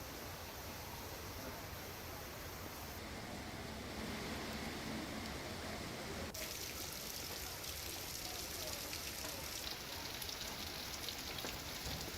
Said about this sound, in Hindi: लगातार बारिश भी हो रही है